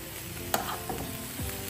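Green onion and coriander frying in olive oil give a soft, steady sizzle with a few stirring scrapes, close up and fairly quiet, with no talking.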